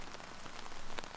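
Rain falling outdoors among green vegetation, a soft, steady, dense patter with no voices.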